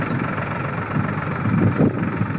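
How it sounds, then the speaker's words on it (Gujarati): A tractor engine labours steadily as it climbs a hill hauling sand and cement toward a temple, a continuous low drone at moderate distance with no talking. "જો ઉપર ટ્રેક્ટર પહાડ ચડી રહ્યું છે"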